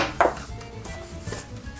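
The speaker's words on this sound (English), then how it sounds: "Cut off this little excess." A knife trims excess lace from a vegetable-tanned leather knife sheath with edge braiding, one sharp close snip followed by faint handling noise.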